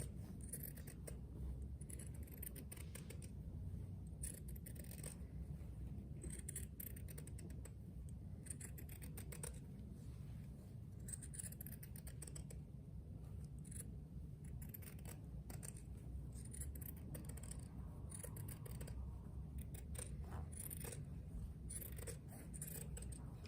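Scissors snip through sewn fabric for a simple cat-shaped door stopper, producing a steady run of close, crisp cutting clicks over a low background hum, with no talking.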